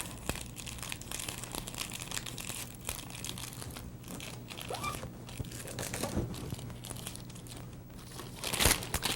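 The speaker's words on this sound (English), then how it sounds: "Take another one, fold it like a fan" Paper or ribbon crinkles and rustles as it is folded like a fan for gift wrapping. The soft, irregular crackles come close and fairly quiet, with a louder crumple near the end.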